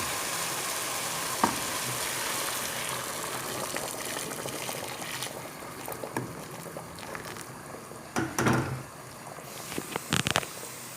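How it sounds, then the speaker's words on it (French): Boiling water poured into a pot of cauliflower tajine with olives, a rushing, gushing pour over steady sizzling and simmering, with a few clanks and bursts of splashing toward the end; no one speaks. "je vais ajouter les olives et je vais ajouter environ 1 litre d'eau bouillante"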